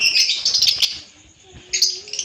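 Adult violet pet birds chirping, bursts of bright high chirps that pause briefly and then resume, with a few faint flutters in between.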